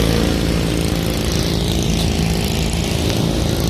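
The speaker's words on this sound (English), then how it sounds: "Another iteration of learning to ride the mower" A riding lawn mower engine roars continuously at high revs as it churns through mud, loud and close with no letup.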